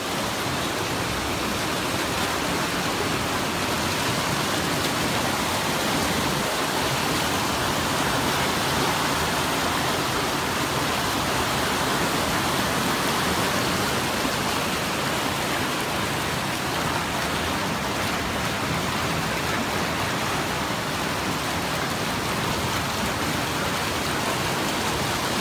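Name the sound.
running stream water while washing hands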